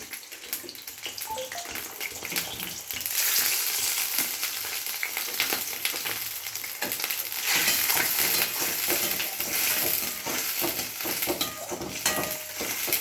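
Dried fish and ivy gourd frying in oil in a steel pan, a bright, dense hiss that swells louder partway through and keeps up steadily, with faint clicks of stirring and no talking.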